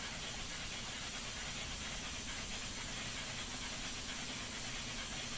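An FEF-3 steam locomotive in the Train Simulator 2015 video game works hard, giving a loud, continuous roaring hiss of steam with no distinct beats and no voices.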